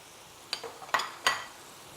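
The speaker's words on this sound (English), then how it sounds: "Give it a good mix." Diced celery and smoked bacon stirred in a pot, giving three short scraping clinks of a utensil against the metal over a faint sizzle, close by and with no talking.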